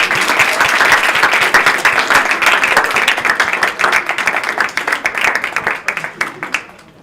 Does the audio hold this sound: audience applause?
yes